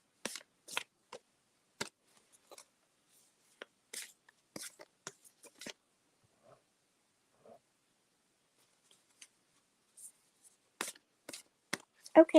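Oracle cards are shuffled by hand in soft, scattered riffles and taps with quiet pauses between, close and faint, with a brief louder shuffle at the end.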